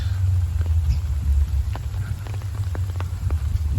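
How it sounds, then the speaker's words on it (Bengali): Light rain falls at Garh Mandaran: a steady, close hiss of drops over a low rumble, with a few faint clicks and no voices. "এখন একটু বৃষ্টি কমেছে"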